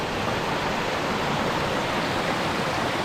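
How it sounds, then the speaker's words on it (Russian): A small stream tumbles over little rock steps in the Carpathian foothills, a loud, steady broadband rush of flowing water heard close up with no breaks and no voices. "Такой интересный ручей"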